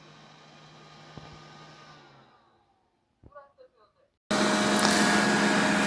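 A Dreame robot vacuum cleaner heading back to its charging dock: a faint motor whir fades to near silence, a few short electronic beeps follow, then a loud steady roar of the vacuum starts up.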